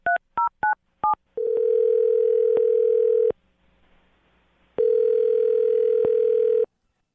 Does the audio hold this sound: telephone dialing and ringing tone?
yes